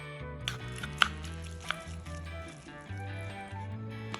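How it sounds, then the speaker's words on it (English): Tuna being stirred with mayonnaise, salt and pepper in a bowl, giving soft wet squishes and a few light clicks of a utensil against the bowl over a low background hum. "then give it a good mix."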